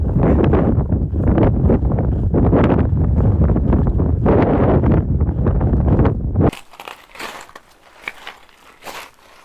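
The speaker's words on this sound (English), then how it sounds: "it's really windy, really dusty" Strong, dusty wind on a desert hiking trail between Safford and Alma buffets the microphone in heavy, roaring gusts for several seconds, then drops abruptly to a lighter rustling breeze.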